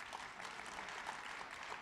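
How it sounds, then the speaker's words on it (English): An audience at a historic public playhouse applauds in a steady, dense patter. The clapping comes from a moderate distance and sounds fairly soft. "I think that we should give them a round of applause right now."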